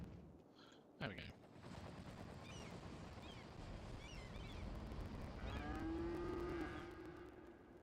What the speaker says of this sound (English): The echoes of cows.